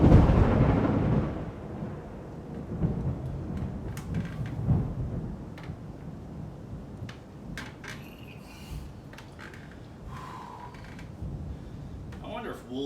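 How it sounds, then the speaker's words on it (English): Thunder rolls in loud at the start, a low rumble that fades into a softer, drawn-out grumble, followed by scattered light knocks and clatter in the quieter stretch. "I wonder if wolves are scared of thunder."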